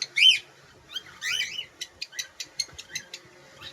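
Semi-adult female cockatiel calling: a few shrill squawking chirps followed by a rapid series of short, sharp, evenly spaced chirps, close and clear with no talking.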